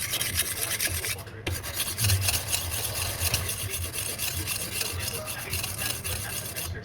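A dull kitchen knife is sharpened with a steady, continuous rasping scrape that runs close and fairly loud for several seconds, with only one brief break.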